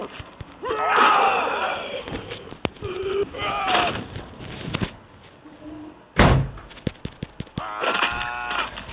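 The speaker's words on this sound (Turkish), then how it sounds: "Kapıyı kapattım." A door is shut in The Walking Dead video game, a sharp slam standing out among game sounds and intermittent voices, with a few smaller knocks after it.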